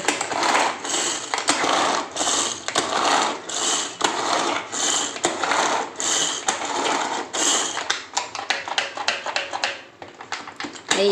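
Large onions being chopped in a hand-pulled chopper, a fast rhythmic whirring and ratcheting repeated in steady pulls, close and loud, quickening into shorter clicks near the end.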